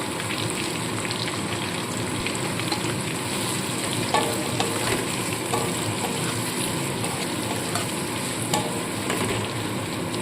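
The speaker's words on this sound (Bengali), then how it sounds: "পেঁয়াজ আর ক্যাপসিকামটা কিন্তু খুব বেশি ভাজবো না," Sliced onion and capsicum sizzling in a pan, lightly fried for chilli soya, a dense continuous crackle with occasional stirring scrapes, close and steady throughout.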